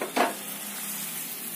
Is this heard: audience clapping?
no